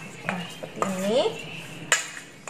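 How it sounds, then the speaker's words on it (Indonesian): Garlic and ginger being stirred in a pan for garlic fried chicken, heard as a few close metallic scrapes and clinks of a utensil against the pan, with a brief voiced sound in between. "saya akan aduk dulu biar rata"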